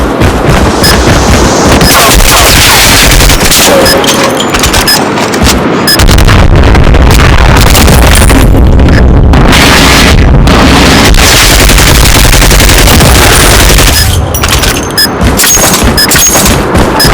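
Dense, continuous gunfire and heavy booms from Call of Duty Mobile in a bomb-planting objective match, loud and sustained throughout with bursts of automatic fire and thuds, and no speech.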